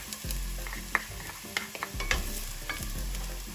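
Garlic sizzles in an Instant Pot with onions, a steady frying hiss broken by repeated stirring scrapes and small clicks of a utensil.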